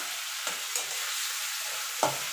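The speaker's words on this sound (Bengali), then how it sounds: "এবার মশলাটা ভালো করে কষিয়ে নিতে হবে যতক্ষণ মশলা থেকে তেল না ছেড়ে আসছে" Spice paste with red chilli powder frying in oil for a fish-head moong dal, a steady close sizzle with a few spatula scrapes and a louder stir near the end, no talking.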